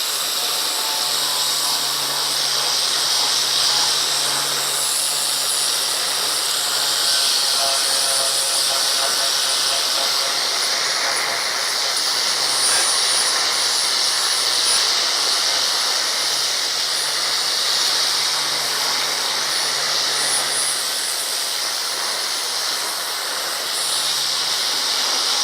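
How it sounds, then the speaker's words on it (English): An angle grinder fitted with a flap disc grinds the edges of steel frame rails, producing a loud, continuous abrasive hiss and whine that holds steady for the whole stretch with no talk. "so this is a flap disc. This is used for just, you can polish up edges, but it takes material off"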